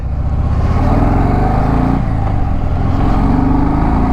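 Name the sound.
Harley-Davidson motorcycle accelerating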